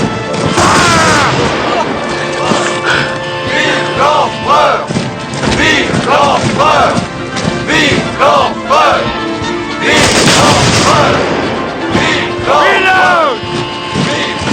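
Infantry musket volleys in a Napoleonic-era battle, repeated booming cracks fired by alternating ranks, mixed with loud shouted commands throughout.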